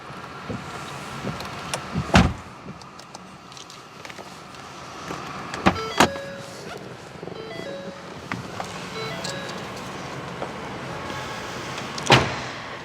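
Power door on a 2013 Ford Taurus 3.5 Limited closing on its own, with a soft motor whir and sharp latch clunks near 2, 6 and 12 seconds, close and fairly quiet in an otherwise still setting.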